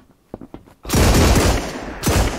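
Gunfire in a multiplayer survival shooter game: a few faint distant shots, then a loud sustained burst of rapid automatic fire lasting over a second, followed by another brief burst.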